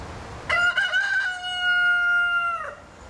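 One clear rooster crow rings out nearby, ending in a long sustained tone against a quiet background.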